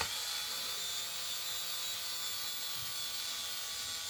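A battery electric screwdriver runs sluggishly while driving screws into a PC case, making a continuous thin, high whirring hum at low volume from start to end.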